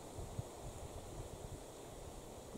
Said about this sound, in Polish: Słychać tylko wiatr, liście, którymi porusza.